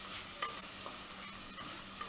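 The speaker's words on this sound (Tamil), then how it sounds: "தக்காளி நல்லா வதங்கட்டும்." Chopped tomatoes sautéing in a clay pot for prawn thokku, a steady close sizzle with scraping stir strokes at a few points across the clip.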